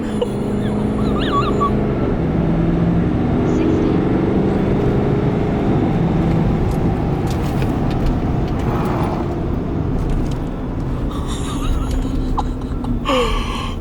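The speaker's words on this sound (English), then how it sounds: "So now we're in 4-wheel drive. Traction control still off. Let's see what we can do. We can do a much harder launch now." Ford 6.7 Powerstroke diesel pickup launching hard in four-wheel drive with traction control off, a loud, close, sustained engine roar and rumble that eases near the end, with brief exclamations.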